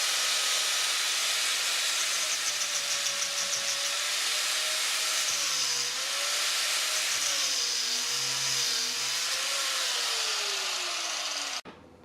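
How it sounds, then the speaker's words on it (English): An angle grinder tries to cut a silicone intercooler hose for a Ford TF Cortina. It whines loud and continuous at a pitch that wavers as it bogs under load, then stops abruptly near the end. No one talks. "going to try it with a grinder."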